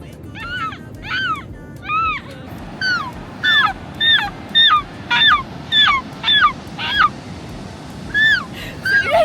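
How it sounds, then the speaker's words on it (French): Hoarse calls from an old, sickly seagull ring out in a steady series of about fifteen short harsh cries, fairly close, over a low rumbling background. "Elle est un peu malade, la mouette."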